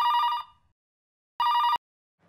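A telephone bell rings loudly and close by in two bursts, separated by about a second of silence.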